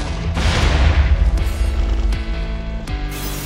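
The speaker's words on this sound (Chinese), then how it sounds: "大炮的对轰啊" Cannon blasts clash in a Minecraft Jujutsu Kaisen mod battle, with loud booming explosions that rumble together, followed by several sharp metallic impacts.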